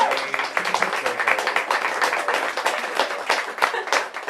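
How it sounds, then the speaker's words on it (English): Applause from a bookstore audience at an author event, a dense steady patter of many hands clapping for about four seconds with a faint voice or two mixed in. "One more big round of applause."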